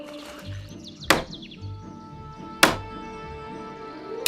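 Two sharp metallic hammer strikes ring out a second and a half apart, with a low steady hum and faint chirps in between.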